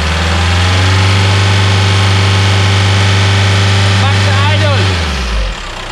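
A VW/Audi-group car engine with a turbo boost fault held at 3000 rpm, a steady close, loud mechanical drone that holds for about five seconds, then drops away and falls silent near the end.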